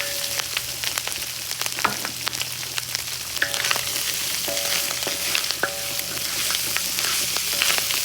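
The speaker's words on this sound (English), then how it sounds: "Start frying that up just like that." Beef tongue frying in a discada, a steady loud crackling sizzle throughout with occasional metallic scrapes and clinks of stirring on the pan.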